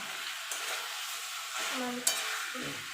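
Young jackfruit and potato being stir-fried with spices in a pan for a vegetarian curry, giving a steady close sizzle with scraping stirs and a sharp clink of the spatula near the end.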